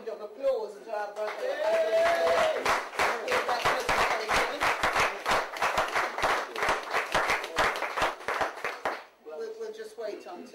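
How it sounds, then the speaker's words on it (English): An audience claps for a speaker at a talk on the life and work of Kwame Nkrumah. Brisk, uneven applause builds after a moment of speech and then tapers off, with voices before and after. "Let's give another big round of applause to our brother."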